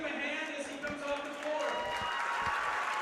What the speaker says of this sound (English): giving a big old round of applause